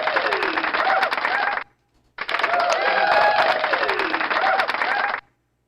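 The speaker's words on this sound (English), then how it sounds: "Please virtual clap for our education program supervisors." Played-back applause for education program supervisors during an online orientation: two bursts of crowd clapping with a thin, band-limited sound, cut off abruptly with a short silence between them.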